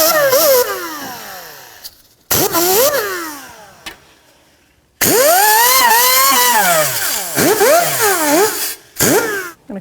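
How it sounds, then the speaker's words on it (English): A power tool fitted with a wire wheel is used to clean oxidation off a car wheel hub on a 2009-2014 Nissan Maxima, the motor loud and close, whining as it revs up and down in bursts separated by short pauses. "If you want to take a wire wheel to it,"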